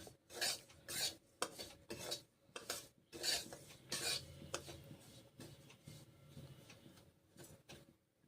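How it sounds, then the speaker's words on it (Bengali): Semolina frying in ghee while being stirred in a pan: repeated scraping, rasping strokes of a utensil against the pan in an irregular rhythm, close and moderately loud, with no voices. "সুজিগুলো ভেজে নিচ্ছি গা ঘিয়ের সঙ্গে।"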